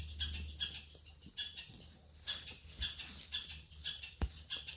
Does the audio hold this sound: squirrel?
yes